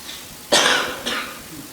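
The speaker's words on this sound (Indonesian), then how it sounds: "memang agak batuk ini saya, oleh-oleh dari sono ini baru pulang beberapa waktu yang lalu sehingga masih batuk-batuk." A man coughs twice close up. The first cough is sharp and loud and the second comes about half a second later, a little softer, with quiet room tone around them.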